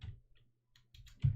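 A few soft, scattered keystrokes are tapped on a computer keyboard while typing a web address, quick clicks spread across a second and a half with a slightly heavier tap at the end.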